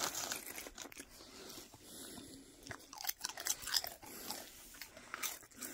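A dog bites and chews very salted crisps up close, with sharp irregular crunches and crinkling bursts scattered across the few seconds, fairly quiet overall.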